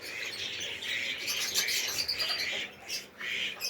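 Farm birds, including ducks, doves and small birds, call from their pens, giving a bright, busy chatter of chirps and tweets at moderate volume with brief gaps.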